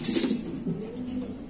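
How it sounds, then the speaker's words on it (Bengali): Black Mundian pigeons coo close by, a soft low rolling murmur that keeps on steadily for the whole moment, with a brief airy hiss at the very start. "এটা ডিম বাচ্চা করা কবুতর নাকি ভাই?"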